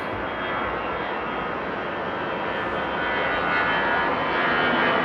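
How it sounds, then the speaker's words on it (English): A Lufthansa Airbus A330 taxiing at Frankfurt Airport gives a steady, loud jet engine whine and roar that swells slightly as it nears, with no voices over it. "the Lufthansa A330 to Portugal taxiing this way"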